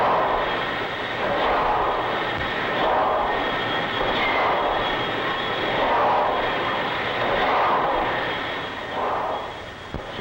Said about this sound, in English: What a big piece of machinery helping make the boat go, and how smooth and powerful it seems.